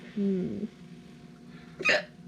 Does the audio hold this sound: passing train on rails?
no